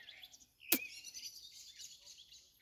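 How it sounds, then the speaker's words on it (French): A small bird sings high in a tree outdoors in summer heat, faint, high-pitched chirps with one sharp louder note early on, then soft twittering continuing alone. "Il y a un petit oiseau là-haut."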